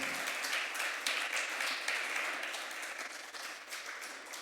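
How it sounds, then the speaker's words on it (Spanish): Church congregation applauding during a Spanish-language worship service, a steady, dense wash of clapping from many hands that holds for several seconds and fades slightly toward the end. "Le damos un aplauso al Señor en esta hora."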